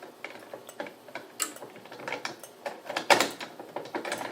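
A key turns in the lock of a Simplex fire alarm panel, giving a close series of small metallic clicks and ratcheting rattles with no talk.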